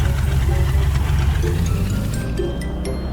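A Kubota tractor engine in Farming Simulator 19 runs with a steady, loud, low rumbling drone, close and continuous, with light ticking.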